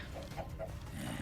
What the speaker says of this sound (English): That is a chicken jockey.